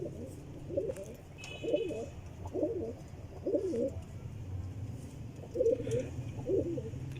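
Pigeons kept by a fancier for flying tournaments, including Chinese pigeons, coo in a steady series of soft, throaty, rolling calls repeated about once a second, fairly close, over faint background hum.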